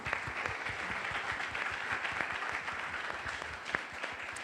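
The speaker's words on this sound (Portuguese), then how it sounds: "Eu quero ouvir aplausos dessa igreja." Church congregation clapping during a Sunday service, a sustained round of many hands at moderate volume, individual claps audible within the steady patter, with a hint of voices underneath.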